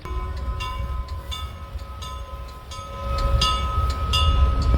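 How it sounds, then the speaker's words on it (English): A train rolls past at a threshers reunion farm show with steady rumble, clanking wagons and repeated bright metallic clicks and squeals from the wheels, growing louder toward the end. "There goes the train."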